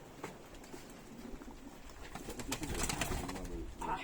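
Several pigeons coo in a breeder's loft in Kütahya, Turkey: soft, low, throaty rolling coos that overlap continuously at close range, with faint fluttering and shuffling behind them and no clear talk.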